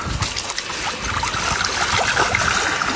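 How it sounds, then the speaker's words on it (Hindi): Cold fresh water splashes and pours into a container outdoors, a continuous rushing, gurgling flow that is loud and close throughout, with no speech. "ये पानी इसमें डाल दिया है, ठंडा ठंडा पानी"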